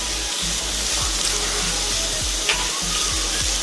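Almonds and raisins frying in a pan with a little sugar, giving off a steady, close, even hiss of sizzling throughout.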